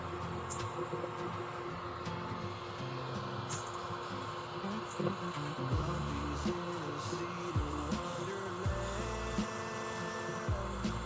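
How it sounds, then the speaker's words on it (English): A ring is sanded by hand with 150 grit sandpaper, giving a steady, continuous scraping and rubbing that runs throughout at an even level with a tonal background underneath. "I'm gonna try to sand it up a little bit and get it close"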